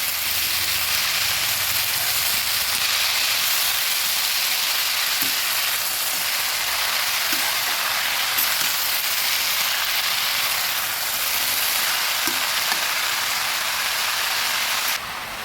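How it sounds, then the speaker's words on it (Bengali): Red spinach fries in a pan with a steady, close sizzle that runs throughout, broken by occasional soft knocks as it is stirred, and no one speaks. "সবগুলো লাল শাক দিয়ে দিলাম ভালোভাবে নেড়ে দিচ্ছি"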